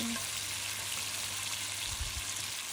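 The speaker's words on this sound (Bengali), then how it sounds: "রসুনটা আমার একটু বাদামি হয়ে আসছে এখন আমি দিয়ে দেবো পেস্টটা পেস্টটা একটু বেজে নেবো ভালো" Garlic browning in a pan with a spice paste about to go in, producing a dense, loud, continuous frying hiss with a low rumble and no talking.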